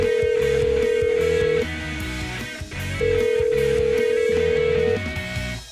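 A telephone call rings out in long, loud steady tones, two extended rings separated by a pause, over a busy musical bed with rhythmic percussion.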